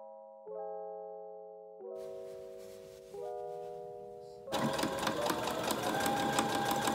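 A sewing machine stitching pockets onto a jumpsuit. Soft chiming notes come first, then the machine joins in with fast, steady, close whirring that stays loud through to the end.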